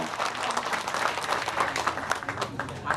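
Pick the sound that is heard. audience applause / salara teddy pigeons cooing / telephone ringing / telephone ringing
audience applause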